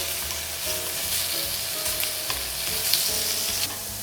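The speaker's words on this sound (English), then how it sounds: "Put the meat in the pan here. And we fry it up nicely." Meat frying in oil in a pan at a cooking class, a loud, steady sizzle with crackling pops and low rumbling background hum, no talking.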